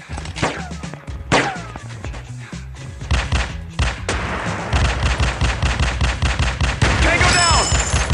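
Rapid bursts of automatic gunfire in the mobile shooter Teddy Bear Gun Strike, loud and close, with sharp individual shots and steady machine-gun volleys plus game effects running through.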